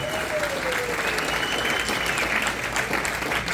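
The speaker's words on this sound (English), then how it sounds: "Round of applause for Gary Brown." Steady, full applause from a gala audience honouring an award recipient at the JWT Golden Gala 2022, loud and dense throughout the short stretch, with no clear talking over it.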